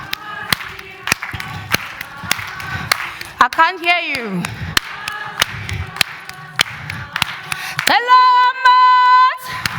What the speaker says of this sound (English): Maybe we want to do a bit of clapping.